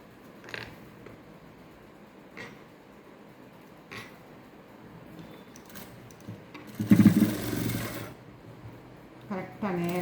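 A sewing machine double stitches a peplum top, running in a loud, close, whirring burst near the end after quieter handling sounds, while someone talks.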